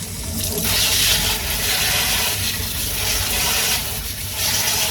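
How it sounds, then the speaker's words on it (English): Tap water running in a steady rush while a dusty houseplant gets a quick rinse, loud and close, swelling and easing a few times with no voices. "Do a quick little rinse first."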